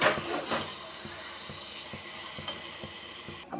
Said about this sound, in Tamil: இப்போ இதை வந்து காஞ்ச மிளகாய், பூண்டு, புளியெலாம் வச்சு வதக்க போகிறேன்.